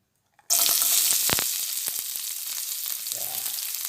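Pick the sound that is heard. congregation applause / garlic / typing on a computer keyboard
garlic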